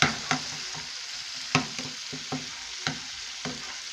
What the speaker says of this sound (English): Mix it well until everything is incorporated well.